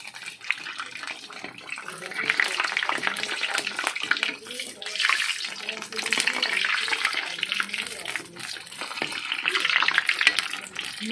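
Empanadas frying in oil in a pan give a steady crackling sizzle that swells and eases in waves, close and moderately loud, with faint stirring now and then.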